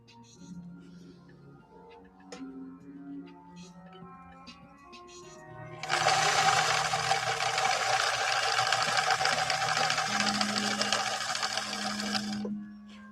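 A 1964 Viking Husqvarna 19E Special sewing machine runs a steady, loud whirring stitch for several seconds, preceded by softer mechanical clicks and hum while the stitch setting is adjusted.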